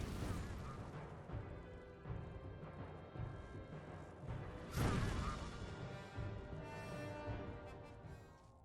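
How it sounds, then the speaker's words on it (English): A Fireball spell cast in Gothic 3, a chargeable ball of fire launched at a target, bursting in a sharp whooshing blast near the middle over a dense layer of ongoing game noise and music. "Fireball. Launches a ball of chargeable fire at the target, causing fire damage."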